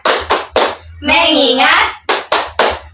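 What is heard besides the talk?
class clapping hands in a rhythmic clap chant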